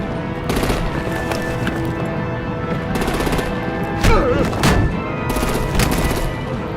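Machine gun fire in Batman: The Enemy Within as artillery is brought out against vehicles, loud rapid bursts repeating in several clusters over about seven seconds, mixed with impacts and no talk.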